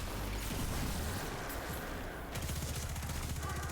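Submachine gun fire in Destiny 2: Shadowkeep, a dense rapid stream of shots filling the whole stretch with a brief dip midway before the burst resumes, loud and continuous.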